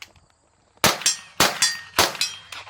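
Three sharp suppressed pistol shots from a CZ Scorpion fitted with a Cash 9K suppressor, each crack followed by a quick echo, evenly spaced about half a second apart after a brief quiet start.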